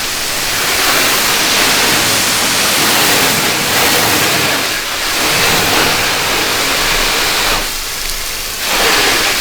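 A water hose rinses touchless sealant off car paint in a loud, hissing spray that surges and briefly drops away twice as the stream moves across the panels.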